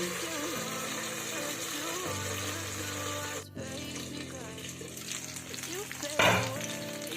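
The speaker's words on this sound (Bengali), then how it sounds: "উল্টো পিঠটাও কিন্তু আমি এভাবে ঢাকা দিয়ে" Fish fries in a covered pan with a low steady sizzle, a clatter around the lid partway through, and a brief louder burst near the end.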